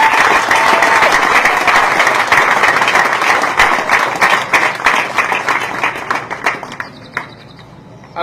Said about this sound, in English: Let's give them a wonderful applause, ladies and gentlemen.